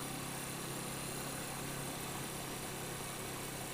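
A 1980 Yamaha XS400 Special II motorcycle engine runs steadily at cruising speed, a continuous buzzing drone mixed with broad wind rush, with no pauses or talk throughout.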